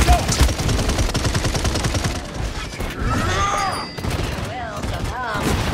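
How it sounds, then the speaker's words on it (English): Rapid gunfire in the Paladins video game at Splitstone Quarry, a dense, steady stream of shots running through nearly the whole stretch, with short game voice lines and tonal effect sounds mixed in. "I'm under fire."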